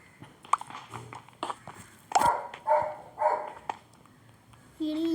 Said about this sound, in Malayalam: ഈ ചാർലി എന്താ കുരയ്ക്കണം?